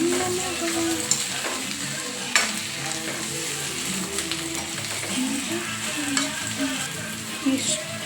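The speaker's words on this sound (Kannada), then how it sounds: "ಹಾಗಲಕಾಯಿ ಎರಡನ್ನೂ ಮತ್ತೆ ಹುರಿದ್ಕೊಳ್ಳಿ" Bitter gourd frying in a pan with onion and tomato for a sambar, a steady close sizzle with repeated scraping stirs and occasional clinks of the spoon against the pan.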